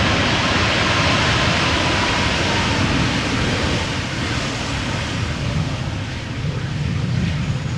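A Boeing 737 MAX 8 in Blue Air livery arriving at Amsterdam Schiphol Airport makes a steady, wide jet roar that holds loud and then eases slightly toward the end.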